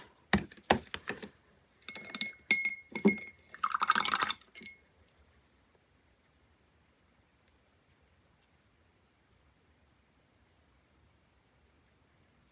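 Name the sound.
water being added to gesso for splattering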